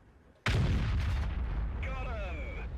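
A World of Tanks FV215b (183) tank destroyer's main gun fires in a single huge blast that holds as a long, loud rumbling tail, followed by a descending whine of game effects.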